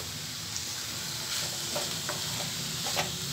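Potato palya for masala dosa stirred in a hot pan, with a continuous sizzling hiss of frying under scattered scraping strokes of the spoon, close and steady, with no voices.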